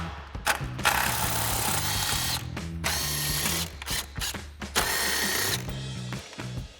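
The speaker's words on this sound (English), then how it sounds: "So we'll grab our 10mm socket again and remove all those." A 10mm socket on a ratchet clicks rapidly in bursts while backing out grille mounting screws on a RAM 2500 pickup, close and loud, with short pauses between runs.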